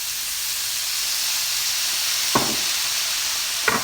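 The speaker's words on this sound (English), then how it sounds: "So just fry until the raw smell goes." Vegetables for paneer fried rice fry in a pan with a constant close, loud sizzle and hiss, broken by two brief scraping knocks of stirring.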